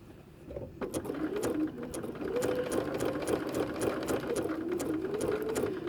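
A sewing machine stitches applique onto fabric as the work is turned by hand. A fast, steady mechanical whir runs close and clear, with a brief pause near the start.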